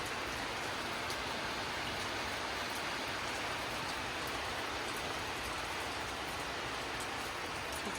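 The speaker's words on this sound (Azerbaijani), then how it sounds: "deyəsən dolu yağır." Hail falls outdoors in a steady, dense patter that holds at an even level throughout, close and fairly loud, with no voices.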